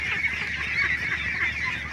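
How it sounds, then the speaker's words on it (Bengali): Grown ducks honking together in a steady, overlapping nasal chorus at close range, short and continuous with no voices. "দেখেন বড় বড় হয়ে গেছে হাঁস"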